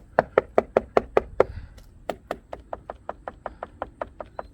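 Sharp, hollow knocks tapped rapidly on a Hummer H2's window trim in quick runs, a first burst of seven, a short pause, then a longer steady series, close and fairly loud.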